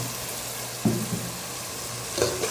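Spice masala with chili and salt sautés in a pan with a steady close sizzle, broken by a couple of short stirring scrapes.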